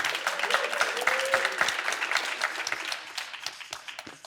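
An audience at a millionaires' summit claps in a loud, lively burst, with sharp individual claps over a dense crowd wash that tapers off toward the end.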